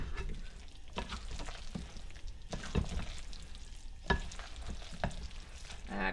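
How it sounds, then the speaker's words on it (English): Cooked rice and casserole ingredients for a tomato caprese tot casserole being stirred together in a bowl: repeated thick, wet mixing strokes and scrapes at an irregular rhythm, close and fairly quiet, with no talking. "Stir all this together, which might be easier said than done"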